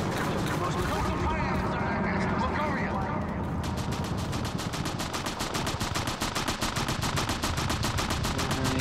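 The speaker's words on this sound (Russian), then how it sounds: "Покажите, покажите, откуда он так стреляет." An enemy shooter's gunfire during a war video game mission, with loud, relentless rapid-fire machine-gun bursts over battle noise and a voice speaking along with it.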